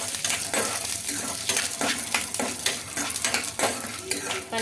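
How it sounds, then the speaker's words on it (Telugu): Peanuts frying in a little oil in a pan, a dense sizzle broken by repeated clattering scrapes of a utensil stirring against the metal, close and busy, without speech. "కొద్దిగా ఆయిల్ వేసేసుకొని అందులోకి పల్లీలు అయితే వేసుకుంటున్నానండి పల్లీలు బాగా ఫ్రై చేసుకోవాలి"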